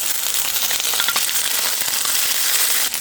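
Onion and rice frying in ghee in a pan, a dense steady sizzle with crackling pops and a few scraping clicks, close and fairly loud throughout.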